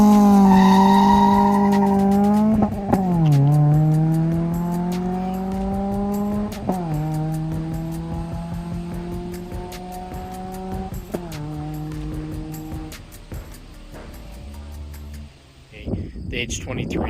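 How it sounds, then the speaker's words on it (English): Honda H23A1 non-VTEC engine revving up through several gear pulls, its smooth exhaust note rising and dropping in steady steps, recorded close and loud, with tire noise at the end. "The H23 non-VTEC sound"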